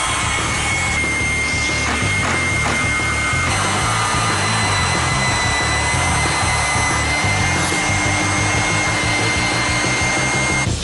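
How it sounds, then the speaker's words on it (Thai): A small cordless band saw whirs continuously, cutting through a fuel dispenser nozzle, a steady buzzing motor drone with grinding texture that never pauses. "เลื่อยสายพานไร้สายเล็กๆ กระทัดรัดแต่สามารถควบคุมได้ง่าย"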